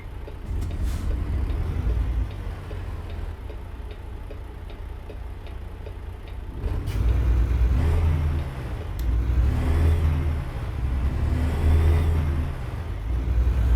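A car speeds down the road in American Truck Simulator on a Texas highway from Dalhart to Lubbock, its engine roar swelling loud and close over a steady truck drone, then rising and falling again.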